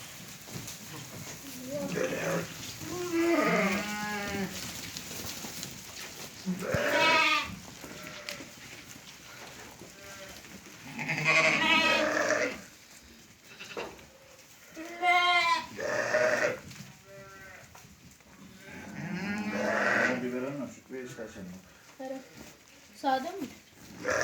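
Lambs and sheep bleat repeatedly in quavering cries, close by, with a person talking between and over the calls.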